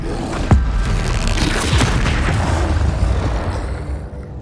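A spell is cast in the Hogwarts Legacy video game, sounding as a sharp magical burst followed by a rumbling boom and a fading whoosh of combat effects.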